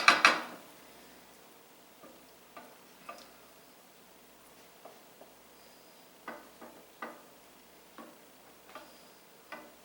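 Chicken alfredo with cheese being mixed in a pan off the heat, a loud clatter at the start followed by sparse, faint spoon taps and scrapes spread unevenly across the quiet stretch.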